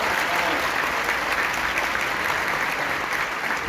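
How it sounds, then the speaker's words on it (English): An audience at a tech conference applauds an interview with dense, steady clapping that holds at full strength throughout. "A round of applause"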